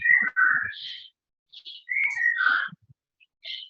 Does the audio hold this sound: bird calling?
yes